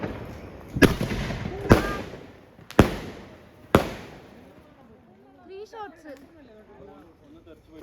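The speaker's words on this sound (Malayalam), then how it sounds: "ഫൈനലി ലാസ്റ്റ് പടക്കാണ് നമ്മുടെ കാലിയാവാൻ പോകുന്നു" Four loud, sharp Diwali firecracker bursts go off about a second apart in the rain, each with a short ringing tail, followed by people talking quietly.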